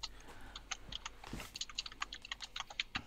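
Rapid, uneven clicking of keys on a computer keyboard, soft and close, with steady bursts of keystrokes and no voices.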